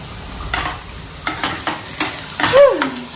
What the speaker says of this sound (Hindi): अभी हम सोयाबीन बनाने जा रहे हैं और बस कांदा फ्राई हो जाए